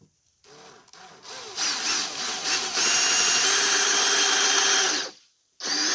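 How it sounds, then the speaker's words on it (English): A power drill whirs up and bores steadily into wood for serving tray handles, grinding loudly for a few seconds before stopping, then starting again briefly. "we're going to go ahead and drill a hole"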